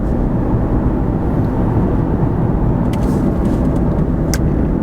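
An Infiniti M37 X's engine pulls under power, a loud, steady, full-bodied roar from inside the car that holds constant throughout, with no one speaking.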